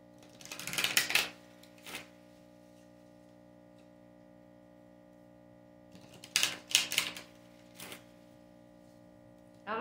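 Oracle cards being shuffled and pulled, two short bursts of papery riffling and flicking, quiet and close, separated by a pause over a steady low hum.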